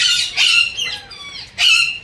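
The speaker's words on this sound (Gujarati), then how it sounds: "જો પોપટ બોલે છે" Harsh, loud parrot squawks ring out close by at a zoo, two long raspy calls with a brief pause between, no voices.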